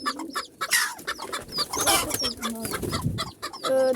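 A broody hen clucks among her chicks, with busy, overlapping clucks and short peeps continuing close and fairly loud throughout, with no speech.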